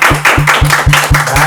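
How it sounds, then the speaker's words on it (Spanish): Rhythmic applause from a studio audience greeting a guest on a podcast, loud, close claps in an even, repeating beat. "Recibamos con un fuerte aplauso a Adrián"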